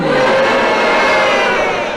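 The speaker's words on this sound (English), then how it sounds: "And if you disagree, will you boo?" A studio audience on a British radio panel game boos together in one loud, sustained mass of voices that fills the whole stretch without a break.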